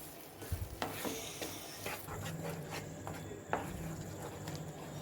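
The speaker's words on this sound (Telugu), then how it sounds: "ఇదంతా పాకం గట్టిపడే వరకు, కొబ్బరి పంచదార పాకం ప్యాన్ నుండి సపరేట్ అయ్యే వరకు తిప్పుతూ ఉండాలి" Coconut sugar syrup for coconut burfi being stirred in a pan over low heat, faint sizzling bubbles with occasional soft scrapes and taps of the spoon, quiet and close.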